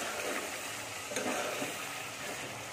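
Meat browned in oil with softened tomatoes for chana dal gosht gives a continuous close sizzle and crackle, with faint stirring scrapes and no talking.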